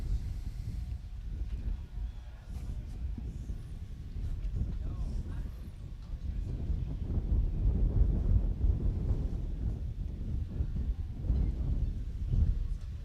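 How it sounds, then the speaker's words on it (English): Wind buffets a microphone during a women's collegiate team sailing race, a low rumbling roar that swells and fades irregularly and grows stronger toward the end. "Feels a little windier."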